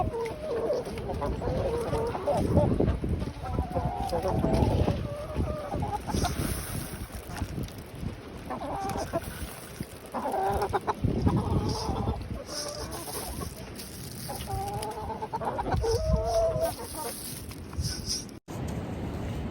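A flock of backyard chickens clucking and murmuring nearby in bursts throughout, with a steady outdoor wind-like rush underneath and occasional soft handling noise.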